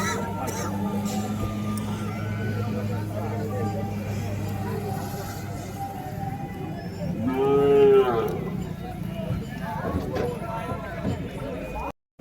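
Cattle low at a busy cow market selling plough bullocks and large red dairy cows, one deep drawn-out moo rising clearly near the middle above constant crowd chatter, someone talking nearby and general livestock bustle.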